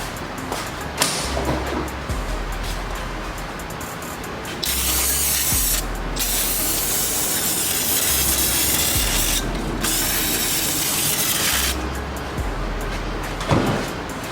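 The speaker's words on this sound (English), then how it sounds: "A little bit of brake cleaner, spray it down, clean it all up a little bit." Brake cleaner sprays onto the transmission of a 2005–2006 Toyota Avalon in a garage, with several loud, sustained hissing bursts separated by short breaks and occasional ratchet clicks between them.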